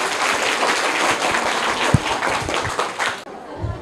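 Loud, dense applause from a crowd, sustained clapping that cuts off abruptly near the end.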